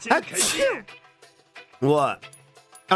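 A single sharp sneeze comes first, close and loud, followed by a short spoken exclamation and another brief voiced burst.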